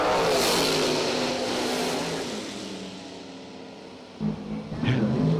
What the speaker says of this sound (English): Heddig in the Nova, the Stinger Racing engines